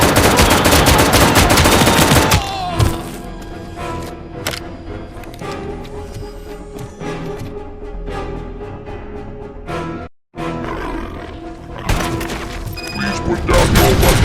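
The ED-209 robot in the RoboCop: Rogue City video game fires its machine gun in loud, sustained heavy bursts, then scattered shots and impacts follow after a brief drop to silence, with the firing resuming near the end.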